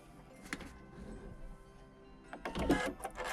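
A sewing machine stitches curved quilt pieces, its motor whirring softly at first and then running in a louder burst of rapid mechanical clatter, close by and without talk.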